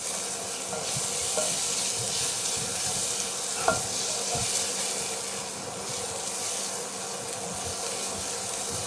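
Pork frying with onions in a pan for pork caldereta, giving a steady, close sizzle with a couple of sharp utensil clicks and scrapes while stirring.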